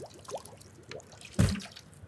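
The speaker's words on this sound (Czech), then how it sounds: "Nabral si vodu, super." Water scooped up in a video game, a short splashing, gurgling burst heard alone about midway through, set against quiet background sound.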